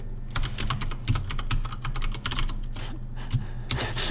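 Fingers type steadily on a computer keyboard, fast irregular clacks of keys close up, with a few heavier thumps of the space bar mixed in and no voices.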